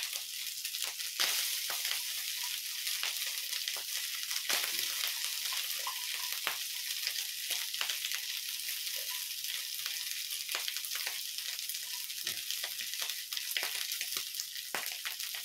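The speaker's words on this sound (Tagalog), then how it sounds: "ibuhos na natin itong kanin at ating isasangag" Cooked rice frying in hot oil in a pan for garlic fried rice, a continuous crackling sizzle with scattered sharp pops and occasional scraping from stirring.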